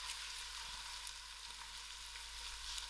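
Onions and spring onion roots fry together in a pan for a spicy Mexican bean and corn soup, giving a faint, even sizzle with small crackles.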